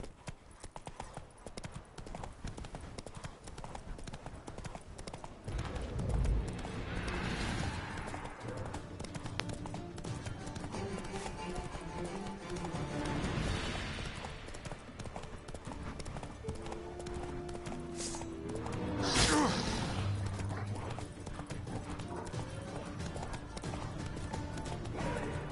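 Hooves of Roach, the horse in the video game The Witcher 3, clip-clop steadily throughout at a near, even gallop-like rhythm, with a brief whinny and surges of louder movement around the middle and later on, and no talk.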